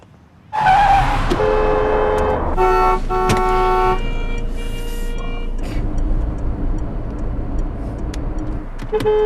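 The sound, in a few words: car driving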